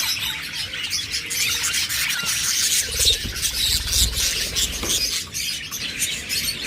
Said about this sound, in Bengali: এরপর এখানে রয়েছে কিছু নিউ অ্যাডাল্ট বাজরিগার